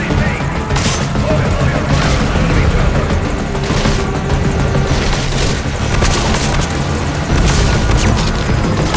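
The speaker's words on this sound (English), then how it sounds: "Our chopper is coming" A military helicopter in the game Metal Gear Solid V roars loudly and continuously while bursts of gunfire and booming explosions crackle on top of it, creating a dense, chaotic battle din.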